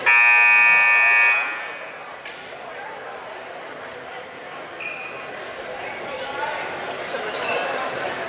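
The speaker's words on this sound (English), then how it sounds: "Buzzer's making noise" A loud, sustained electronic buzzer sounds for just over a second in a high school basketball gym, then cuts off as crowd murmur and shoe squeaks carry on.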